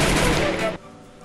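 A dense, loud burst of gunfire in the Free Fire Clash Squad mobile shooter game, rapid shots packed together for under a second before cutting off into quieter game ambience.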